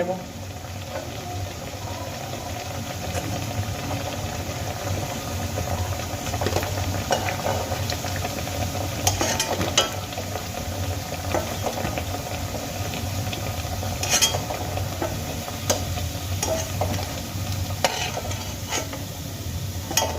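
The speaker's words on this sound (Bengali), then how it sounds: "একইভাবে বাকি পকোড়াগুলো কিন্তু আমি ভেজে নেব" Radish pakoras fry in hot oil with a continuous close bubbling sizzle, sprinkled with small spits and pops. Speech runs quietly alongside throughout.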